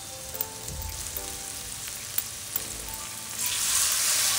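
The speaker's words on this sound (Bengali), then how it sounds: "এর মধ্যে আমি একটু নুন, টারমারিক পাউডার, একটুখানি জিরে পাউডার দিয়ে ভালো করে এটাকে কষিয়ে নিচ্ছি।" Spices with salt, turmeric and cumin powder frying in a pan, a soft continuous sizzle with a few light clicks of a spoon, rising to a louder hiss near the end.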